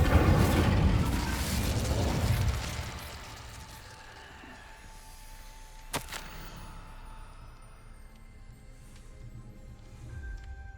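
A fire spell cast in Hogwarts Legacy gives a loud roaring whoosh that fades after about two and a half seconds, followed by a sharp snap and faint magical chimes over quiet ambience.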